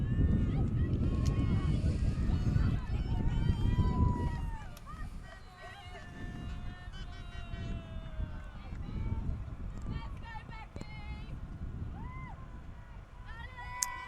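Rough, blustery wind buffeting the microphone at an outdoor junior women's ultimate frisbee match, loudest at first and then easing into a steadier rumble, with faint voices and whistles somewhere in the distance.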